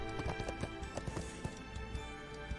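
Horse hooves clop in a steady, rhythmic gait while riding in a video game, moderately close, with brief background game ambience and no clear speech.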